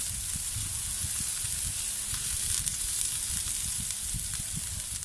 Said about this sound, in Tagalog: atin po munang gigisahin ang ating sibuyas ng isang minuto